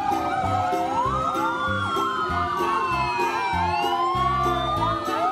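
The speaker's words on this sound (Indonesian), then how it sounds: "di sini ada mobil pemadam kebakaran" Toy fire engine siren wailing continuously and loudly, its electronic tone sweeping up and down over a steady beat of toy music, with no talking.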